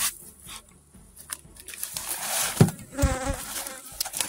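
Honeybees droning around a hive that came through an extreme heatwave, a steady insect hum with a few louder close passes over quiet outdoor background.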